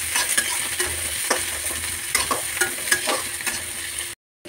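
Onion and chili fry over cumin in a pan while making baingan bharta, a close, steady sizzle broken by repeated spatula scrapes, cut off abruptly near the end; no one speaks.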